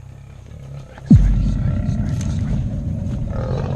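An aggressive lion lets out a sudden loud roar that bursts in and then rumbles on continuously, heard alongside talk.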